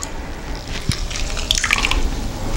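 Milk with vinegar is stirred with a spoon for homemade requeijão, soft wet squishing and faint liquid sloshing close by, with a couple of light clinks against the pot.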